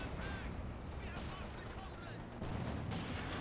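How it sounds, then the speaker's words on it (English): Light infantry small-arms fire crackles in a Company of Heroes 2 battle, with dense, faint, overlapping shots and a steady rumbling din of combat throughout. "taking losses from light infantry gunfire"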